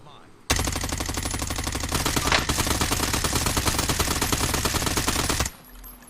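A Diamatti pistol fires in Call of Duty Warzone, loud and close, with rapid continuous shots rattling for about five seconds before cutting off.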